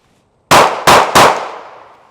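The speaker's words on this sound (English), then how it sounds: "from the 3 yard line, you're gonna draw and fire 3 rounds" Three loud, sharp pistol shots from a small Glock on a shooting range, fired in quick succession from the 3 yard line, each with a ringing decay, no talking.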